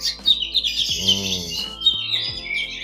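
Several small caged birds chirp and tweet nearby in quick, overlapping calls, with a few sharper squawks breaking through the busy chatter.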